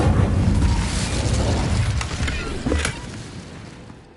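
An Incendio fire spell cast in Hogwarts Legacy, heard as a loud, sustained whooshing roar of flame with a brief crackling burst near the end as it dies away.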